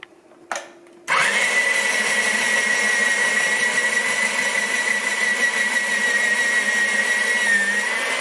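An electric food grinder grinding vegetables for sweet relish, starting abruptly after a short clunk and then running as a steady, loud, high-pitched motor whine and whir throughout.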